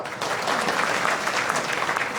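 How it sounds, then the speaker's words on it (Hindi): A crowd at a political public hearing breaks into sustained applause, a dense, even wash of clapping at moderate volume that rises after a brief start. "ताली बजाओ"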